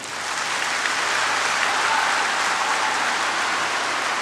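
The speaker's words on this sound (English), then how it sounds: "if you are tired, clap your hands together" A large youth assembly audience claps hands together in a dense, continuous roar of applause, loud and close, sustained evenly for several seconds without any speech.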